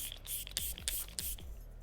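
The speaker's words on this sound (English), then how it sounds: "I do go in with setting spray again after concealer and foundation" Setting spray misted over a made-up face after concealer and foundation, four quick hissing pump sprays in a steady rhythm, close and soft, with no talking.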